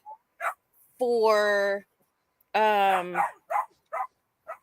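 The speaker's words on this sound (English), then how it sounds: "she is barking up a storm" A pet dog barks indoors at home in two long, loud, harmonic bursts followed by several short sharp yaps, with a brief spoken word in between.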